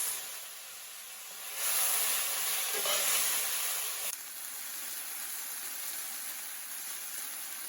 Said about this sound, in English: I'm adding green chilies cut lengthwise. And curry leaves.